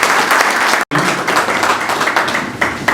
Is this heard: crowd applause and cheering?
yes